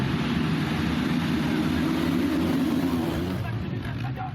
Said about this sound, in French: Avec le vrombissement de tous ces moteurs, on ne s'entend même plus penser.